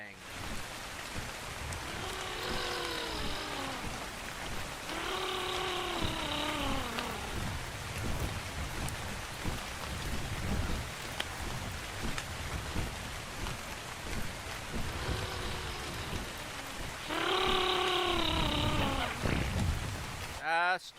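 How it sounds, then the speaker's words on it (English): Rainstorm on the Scorched Earth map of the video game ARK: Survival Ascended: steady rain hiss lasts throughout, while someone talks over it in several short spoken phrases. "Storm's coming in."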